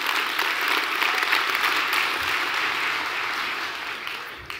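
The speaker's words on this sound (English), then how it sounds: "Come on, give the Lord a hand clap." A church congregation claps steadily and loudly for several seconds, the dense applause tapering slightly toward the end.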